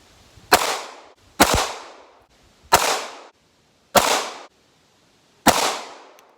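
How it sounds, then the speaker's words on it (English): Five sharp rifle shots fired with a Flux Defense pistol brace, spaced about a second apart, each loud crack followed by a short decaying echo with no talk. "so I shot 6 shots"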